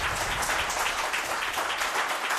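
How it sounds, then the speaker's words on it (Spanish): Studio audience applauding for a guest on a Spanish television talk show, a steady dense wash of clapping that holds evenly throughout. "Pido un aplauso de la gente que está aquí"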